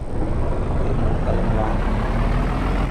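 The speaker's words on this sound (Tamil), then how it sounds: "வண்டி ஸ்டார்ட் பண்ணியாச்சு." In an Indian truck simulator game, a truck's engine runs after starting, giving a loud, steady idling rumble that holds evenly for the whole stretch with no breaks.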